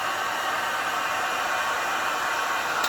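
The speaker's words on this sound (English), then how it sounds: "I'm using a heat gun." A heat gun blows steadily and loudly at close range, drying a craft glass container decorated with rice paper and a mirror effect; a continuous hissing whoosh with no talk.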